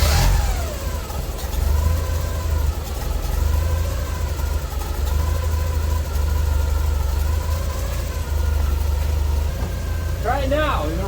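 A stored car's engine, left sitting through winter, running continuously and rising and falling in revs, with a brief sharper rev burst near the end; voices talk intermittently over the steady engine noise.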